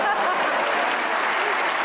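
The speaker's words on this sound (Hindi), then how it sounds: "जिसको लगता है बिस्मा ज्यादा बुरी करती है वो तालियां बजाएं" Studio audience at a comedy talk show clapping together, a dense, steady wash of applause filling the room for a couple of seconds.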